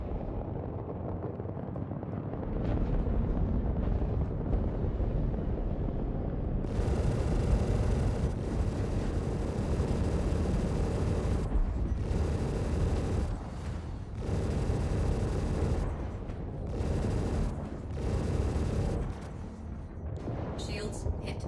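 Caterpillar turret fire strikes a ship in Star Citizen, a sustained loud barrage of gunfire and impacts that keeps pounding in dense bursts with brief gaps, while a voice talks over it.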